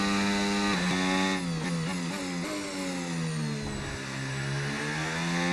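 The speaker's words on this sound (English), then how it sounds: "I can hear Charles's engine getting closer and closer." A Formula 1 car's engine in the racing game F1 25 whines loud and steady at high revs, dropping and rising through several quick gear shifts, while a second engine note climbs in the background.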